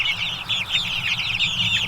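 Young farm chickens, grown past the chick stage, cluck and chatter continuously at close range, a busy overlapping flock sound with no talk over it.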